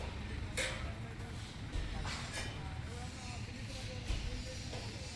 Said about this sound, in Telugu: ట్రైన్ అయితే ఇప్పుడు వచ్చింది.